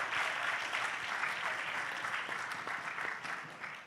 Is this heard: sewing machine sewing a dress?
no